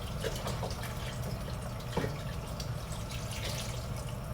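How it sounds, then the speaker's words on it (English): Chicken broth, eight cups in all, pours steadily into a pot of pasta fagioli soup with tomato paste. It makes a continuous close liquid splash and gurgle, fairly loud, with no talk. "gonna pour in 8 cups of chicken broth"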